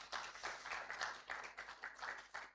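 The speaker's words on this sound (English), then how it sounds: "Can we just give him a round of applause?" Faint, distant applause from a business seminar audience greeting a guest, arriving in uneven bursts of clapping over a couple of seconds.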